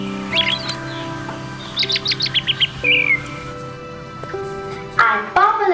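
A parakeet gives bright chirps and a quick run of repeated tweets, with a longer warbling call near the end, heard close over a steady background hum.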